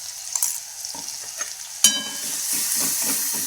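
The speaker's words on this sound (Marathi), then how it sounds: "तेल गरम झालं की मिरची आहे ना जी जाडसर केली ना ती टाकून घ्यायची त्याच्यात" Coarsely ground chilli hits hot peanut oil with a sudden loud burst of sizzling that settles into a steady hiss, with soft stirring scrapes before and during the frying.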